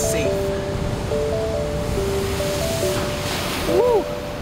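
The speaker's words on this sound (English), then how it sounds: "Oh man, waves are big." Big ocean waves breaking at rocky tide pools, a continuous rushing surf roar that swells near the end, with wind noise on the microphone and thin, warbling whistle-like tones layered on top.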